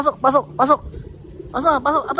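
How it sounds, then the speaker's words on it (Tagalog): Close, repeated cooing calls from a pigeon in short bursts with a brief pause between groups. "So ito na yung ating isang ibon."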